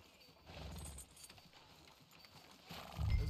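Horse hooves clip-clop in the Western game Red Dead Redemption 2, a soft, distant series of steps that grows louder near the end.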